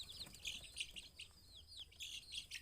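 Young laying-hen chicks newly brought to a coop give repeated high peeping chirps in quick overlapping bursts, fairly close and steady throughout, with no talking.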